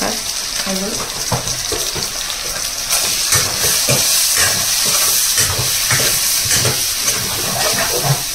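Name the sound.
spices frying for mutton curry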